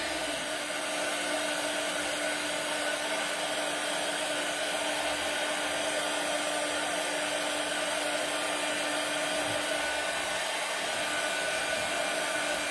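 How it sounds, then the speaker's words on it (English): A heat gun blows hot air in a steady, continuous whooshing hum with a fixed tonal whine, close and unbroken throughout while working on a wooden Christmas stocking. "we'll just try to use my heat gun to get this on here"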